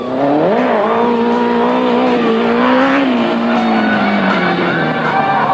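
A Kawasaki ZX-10 motorcycle engine howls at high revs through a wheelie ridden seated on the tank, loud and continuous, with a brief rev rise early and pitch easing down toward the end.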